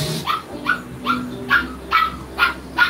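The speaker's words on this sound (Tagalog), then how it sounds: "Ayan, umiyak na yung tuta namin mga langga." A puppy whines and cries in a run of about six short, high yelps and whimpers, evenly spaced and close by, with no talking over them.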